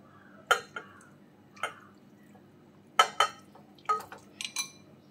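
Chunks of beef dropping into an empty pressure cooker in a kitchen, a handful of sharp clinks and soft thuds spaced a second or so apart, close and clear over quiet.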